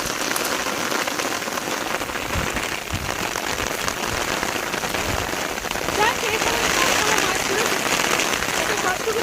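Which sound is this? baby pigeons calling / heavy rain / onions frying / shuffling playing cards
heavy rain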